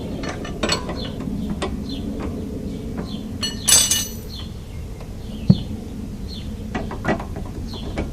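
A ratchet wrench works the nut off a car suspension end link in quick, fast strokes. Dense metallic ratchet clicks and clinks sound close, with one sharp metal tap near the end.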